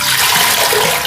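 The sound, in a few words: water poured into pressure cooker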